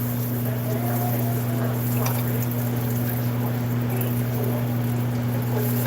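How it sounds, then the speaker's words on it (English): Oil pours over a Trinidad aloo pie frying in a pan, producing a steady, close trickling and sizzling wash that runs unbroken for several seconds over a faint background hum. "we are just pouring that oil over the top of it"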